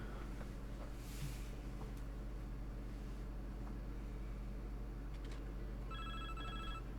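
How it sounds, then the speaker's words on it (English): A telephone in the NASCAR 2005 video game rings for an incoming call. It comes as a short, faint electronic trill near the end, over a steady low hum and background noise. "Phone call."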